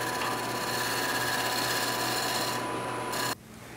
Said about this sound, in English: I'm going to true it up with a bowl gouge.